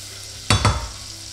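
Softened onions dropped into a hot pan for potato soup, two quick scraping thumps followed by a brief hiss of sizzling, close and fairly loud against a low background sizzle.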